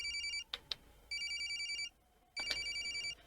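A cell phone ringing in the horror game Corpse Party, a bright electronic chiming ringtone in repeated bursts with short gaps between them, plus a couple of sharp clicks, fairly quiet and with no talk.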